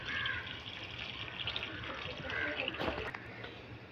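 Water splashing and pouring into a pan, a running liquid sound with a brief louder gush near the end.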